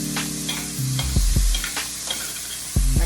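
Andouille sausage frying in a pan on an electric stove for Cajun fried cabbage: loud close sizzling with several scraping strokes of a spatula.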